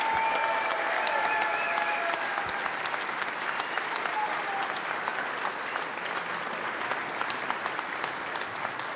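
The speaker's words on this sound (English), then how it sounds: "may we have one more round of applause for our two first-time Champion of Champion finalists" An audience at a snooker final applauds the two finalists, sustained even clapping from a hall crowd that thins slightly toward the end, with no one speaking over it.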